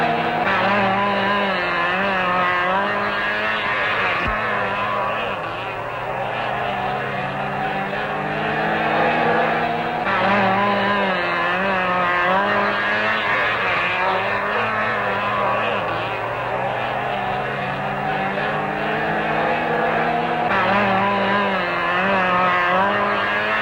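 Classic 1967 cars race in an autocross on a dusty off-road track, their engines revving and droning loudly and continuously with shifting pitch. A commentator speaks over the engine noise.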